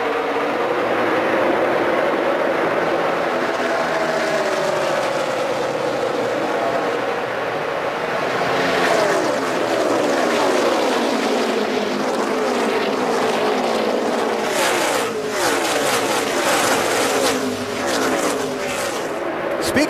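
NASCAR Nationwide Series race cars on a restart at the 2012 STP 300, a loud sustained roar of many engines passing close, with a commentator talking over it throughout.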